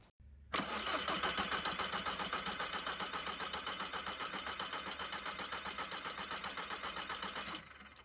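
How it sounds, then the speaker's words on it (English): A diesel TDI engine with a Bosch VE injection pump cranks over steadily with a rapid, even starter chug that goes on for about seven seconds. It runs close and loud, with no speech, and stops abruptly at the end. "And crank the motor over"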